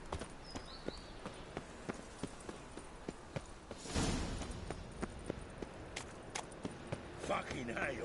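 Horse hooves in the video game The Witcher 3, a steady clip-clop of walking hooves with a brief louder burst midway, over faint ambient game sound.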